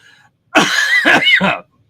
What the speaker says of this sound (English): Let me keep coughing, shall we?